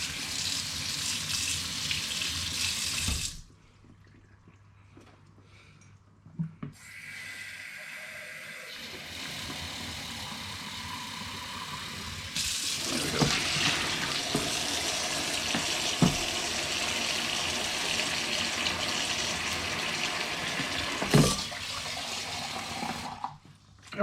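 Hot water gushes from a tap into a sink in a steady hiss, stopping briefly, then flowing again more loudly for a long stretch, while rinsing a Stella chalice glass.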